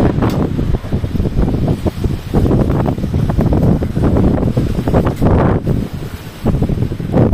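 Strong wind blows outdoors in France, a continuous loud buffeting roar across the mic with gusts swelling and easing throughout, no voices.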